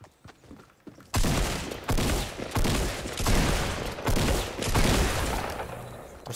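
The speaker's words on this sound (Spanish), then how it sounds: "Hostias, la de tiros que le he fallado" Rapid bursts of gunfire in the Fortnite Battle Royale video game, loud and close, with repeated volleys after a quiet opening second, some faint footsteps between shots.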